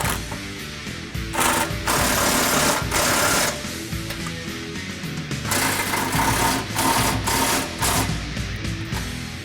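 Power tool tightening the crossmember bolts on a 2011 Ford F-150 with a 3.5L EcoBoost during a downpipe install: loud, close bursts of rapid mechanical hammering, repeated several times with short pauses between them.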